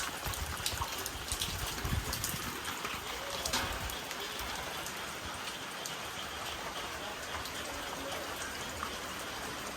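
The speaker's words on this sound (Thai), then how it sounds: "ฝนตกเลยหรอ" Steady rain falls close by, a dense, even patter and hiss that stays constant throughout with no voices over it.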